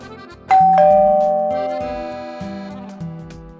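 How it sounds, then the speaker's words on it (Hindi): A two-tone ding-dong doorbell chime rings out loud and clear, its tones sustained and slowly fading, with no talking over it. "क्या बार बार डोरबेल बजा रहे हो?"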